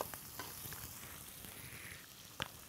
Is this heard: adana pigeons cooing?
no